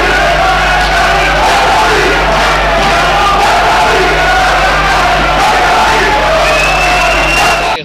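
Loud, sustained crowd in Pakistan's Senate chamber chants slogans in unison, many voices rising and falling together over a steady electrical hum, continuous for several seconds before cutting off abruptly.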